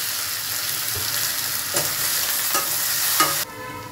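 Chopped onions hit a hot pan with garlic for an aloo kopir dom curry, giving a steady loud sizzle with a few scrapes and stirs of a spatula before the frying noise suddenly drops near the end.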